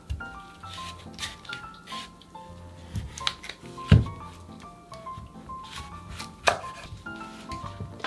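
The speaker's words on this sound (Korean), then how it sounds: "무가 크니까 반으로 잘라서 채를 썰 거예요." A large peeled radish is sliced into thin strips for kimchi, with irregular crisp cutting strikes and a few louder thuds scattered over quiet background, no speech.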